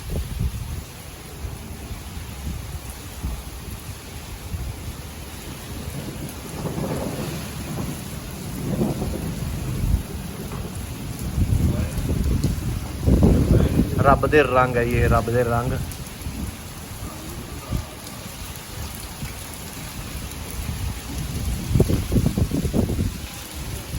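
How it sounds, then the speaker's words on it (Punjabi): Steady rain with rolling thunder rumbling loudly in swells, and someone speaking briefly midway over the storm. "ਕਿਉਂਕਿ ਬੱਦਲ ਬਹੁਤ ਗੱਜੀ ਜਾਂਦਾ"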